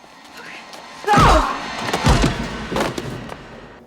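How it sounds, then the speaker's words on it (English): Bones crack in the 1996 movie Scream: a few loud, heavy crunching impacts, the biggest near the start and two more following, over a background of movie dialogue and noise. "that was cracking the bones"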